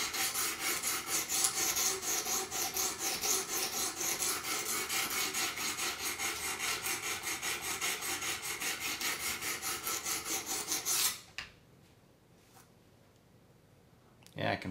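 A Buck 110 knife sharpened on a Work Sharp Pro Precision Adjust, rapid rhythmic rasping strokes of blade on abrasive, close and steady for about eleven seconds, then stopping, followed by quiet.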